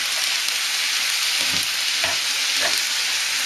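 Food with bacon and pineapple for a Mexican alambre con queso bubbles and sizzles loudly and continuously in a pan, with a few soft stirring or scraping sounds underneath and no voices.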